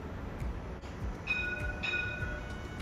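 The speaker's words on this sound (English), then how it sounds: "Today we have tram set number 2127, and it's now time to board the tram." New tram running on the L1 Dulwich Hill Line, a steady low rolling rumble with faint high squeals and tones rising midway, heard from nearby with no talking.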